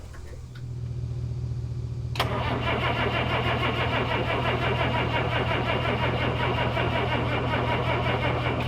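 A 1990 Ford F800 service truck on two batteries cranks briefly with a low whirring starter, then the engine catches abruptly and settles into a loud, steady, close rumbling idle.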